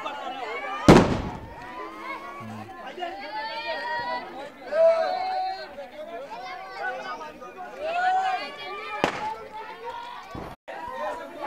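Firecrackers burst during a village Diwali celebration, two loud sharp bangs several seconds apart amid a noisy crowd, with many people shouting and chattering close by throughout.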